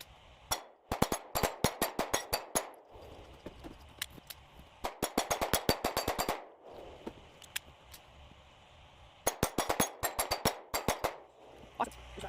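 A Taurus G3c pistol fires 124 grain rounds in rapid strings of sharp cracks, each burst of about a dozen shots separated by brief pauses, heard at a moderate distance with faint background noise.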